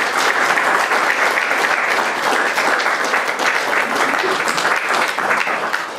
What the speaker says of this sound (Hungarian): szeretnék neki egy nagy tapsot kérni